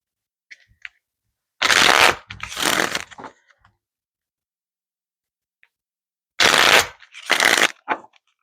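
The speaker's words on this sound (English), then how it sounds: "One more shuffle, it's telling me." A deck of tarot cards is shuffled in two separate close, crisp riffling bursts, each about a second and a half, with quiet pauses around them.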